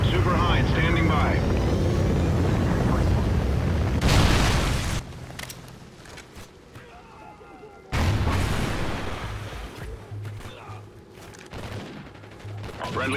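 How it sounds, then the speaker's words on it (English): Trinity rocket killstreak explosions in Call of Duty Ghosts rumble as loud, heavy booms amid aircraft roar and gunfire, ebbing and then surging again, with radio voice announcements over the din. "Friendly Trinity rocket inbound."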